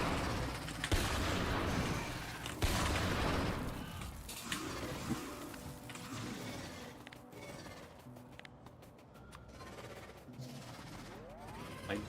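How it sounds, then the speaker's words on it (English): Sniper rifle shots in the Factorio Sea Block mod, a few loud sharp cracks early on, followed by quieter mechanical game sounds and scattered background noise. "I love the sniper rifle."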